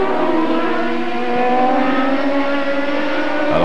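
Herta's race car at the 1995 Road America Grand Prix, its engine droning loud and steady through a corner, with a sharp shift in pitch just at the end.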